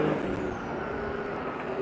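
An S15 drift car at a racetrack during drift practice in Cyprus, a steady broadband engine and tire roar holding at even loudness throughout, with no talk.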